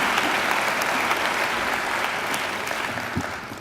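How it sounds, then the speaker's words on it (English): An audience at a university graduation ceremony claps in a sustained round of applause that fades slightly toward the end, heard on its own without speech. "I think he deserves another great round of applause."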